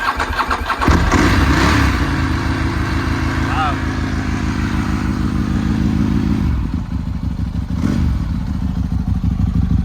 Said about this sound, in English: It's been sitting for maybe 4 months, and it started right away.